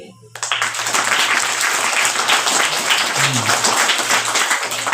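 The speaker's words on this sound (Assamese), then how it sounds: "প্ৰথমে আপোনালোকে এটা হাত চাপৰি মাৰকচোন চবেই" Schoolchildren in an audience clapping at a school celebration, a dense burst of applause that starts abruptly and carries on steadily, loud and close.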